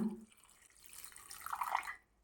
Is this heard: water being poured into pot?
yes